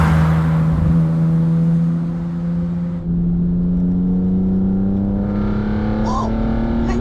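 A BMW M3 E36 with the 3.2 straight-six pulls steadily on the road, its intake roar and engine note rising continuously and loud throughout, with a voice talking over it.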